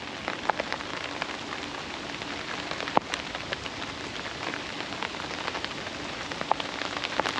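Steady rain patters on a surface, with scattered louder drops tapping close by throughout.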